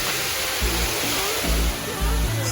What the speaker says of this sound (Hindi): now we have arrived at Sai Yok Noi waterfall.